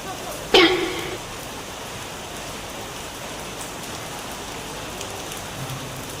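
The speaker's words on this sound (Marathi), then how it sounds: "बघा गाईज किती जोराने पाऊस चालू आहे" Heavy rain pours steadily, a dense continuous hiss close by, with a short sharp knock or clatter near the start.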